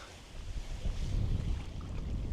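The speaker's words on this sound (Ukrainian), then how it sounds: "Вітер здійнявся просто нереальний, здуває." Strong wind at a fishing spot buffets the microphone in low, rumbling gusts, with a rough roar that rises and falls continuously.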